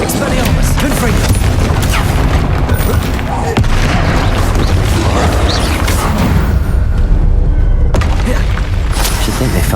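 Bombarda and Confringo spell explosions in the Hogwarts Legacy video game, a loud, dense barrage of booming blasts and rumbling impacts that carries on nearly without pause.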